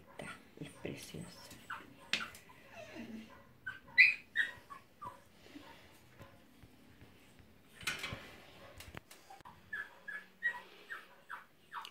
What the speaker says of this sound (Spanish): Ella es la perra que vino hoy 30 de octubre, en horas de la mañana, en extrema flacura.